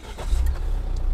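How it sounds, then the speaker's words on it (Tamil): A Jeep Compass with an automatic transmission starts up, giving a short low rumble as the engine catches and settles. The sound is close and heard alone. "ஸோ இன்ஜின் வந்து இப்போது ஸ்டார்ட் ஆயிடுச்சு"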